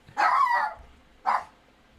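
Dogs barking indoors, one longer bark followed by a short sharp second bark after a brief pause, close and clear with no talking.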